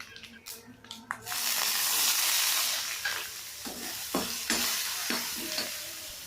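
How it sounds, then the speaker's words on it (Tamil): Onions with spices sizzle and crackle steadily in a hot pan after a soft clatter, with occasional stirring scrapes and spattering bursts. "நறுக்கிய ஒரு பெரிய வெங்காயத்தை அதோடு சேர்த்துக்கலாம்."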